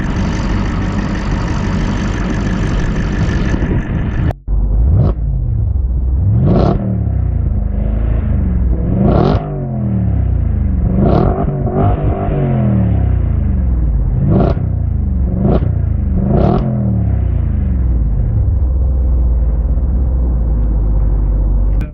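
A 2014 Audi RS5's deep 4.2-liter V8 engine rumbles steadily and loudly throughout, with repeated revs rising and falling over the idle, no voices.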